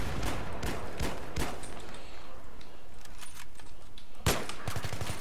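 Rapid gunfire from the video game Battlefield 3 crackles in bursts of sharp shots, with a dense stretch early and another loud burst near the end over steady background noise, fairly faint overall.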